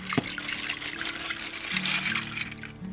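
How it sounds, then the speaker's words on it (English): Washed peas tipped into a cooking pot, a short watery pour and trickle with a small knock near the start, close and moderately quiet, no talk. "After washing your peas, go ahead and add them to the pot."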